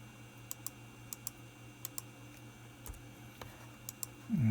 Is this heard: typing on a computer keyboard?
yes